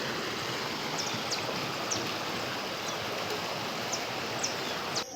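Heavy rain pours near the Humaitá bridge, a dense, steady roar of falling water and rushing flow with occasional faint high chirps, no talking.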